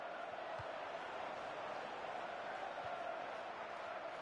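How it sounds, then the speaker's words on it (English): A stadium crowd in the football video game FIFA 15 keeps up a steady, distant roar and cheer throughout, a dense wash of massed voices with no single caller standing out. "And the crowd really enjoying it."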